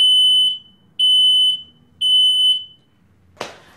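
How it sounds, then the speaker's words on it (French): A smoke detector tested by a firefighter with professional simulated smoke sounds three loud, piercing high-pitched beeps in a steady on-off rhythm, followed by a short sharp noise. "Le sapeur-pompier teste le détecteur avec un produit professionnel simulant une fumée de début d'incendie."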